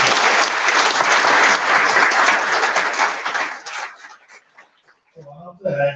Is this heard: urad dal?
no